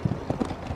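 Horse hooves clip-clop on the ground during a riding lesson, several quick, close thuds in an uneven rhythm over a short stretch.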